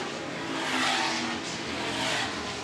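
A historic racing car, one of a field running in the Whitsun Trophy race, sweeps past with a loud broadband engine roar that swells and fades over a couple of seconds, with no talk over it.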